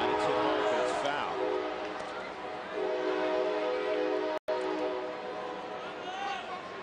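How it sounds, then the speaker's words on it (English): A freight train's horn sounds at length near Coors Field during a Reds at Rockies baseball game, a sustained loud blare with steady tones over crowd and stadium ambience, briefly cut off before resuming. "Must be the 9 o'clock train a little early here, Coors Field."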